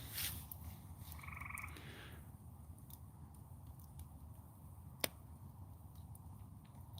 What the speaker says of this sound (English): Listening to the frogs.